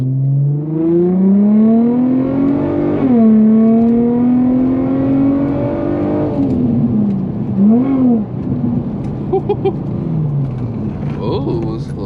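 Infiniti G35 with a resonator and muffler delete accelerating, its loud exhaust droning and rising in pitch through repeated revs and gear changes, close and continuous for the whole stretch.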